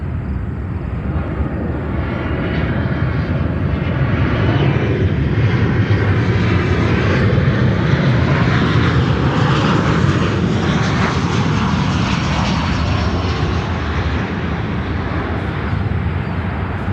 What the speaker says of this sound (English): That is reach 396 from Camp Springs, Andrews, C-17 Globemaster.